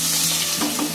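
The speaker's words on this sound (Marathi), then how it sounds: "आता याच्यामध्ये कांदा टाकणार" Onion frying in oil for egg masala gives a brief, steady sizzling hiss with a faint stir, close and even over about a second.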